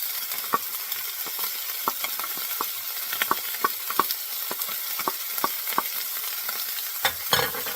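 Mushrooms and garlic sizzle in a pan under a constant close hiss, punctuated by frequent sharp clicks and taps of a spoon stirring against the pan.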